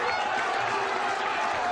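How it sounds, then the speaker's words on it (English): A football crowd at a Kettering Town FA Cup tie against Hull City keeps up a steady roar of encouragement for the home side, a dense continuous wash of voices heard from the stands. "Crowd urging the Poppies on."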